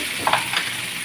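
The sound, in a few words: sautéing onion with tomatoes in pan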